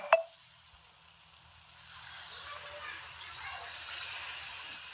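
Maida bonda batter dropped into hot oil on a gas stove, a faint bubbling sizzle that builds after a brief clink and holds steady at a soft level.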